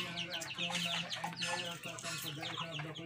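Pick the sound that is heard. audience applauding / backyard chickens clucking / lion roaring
backyard chickens clucking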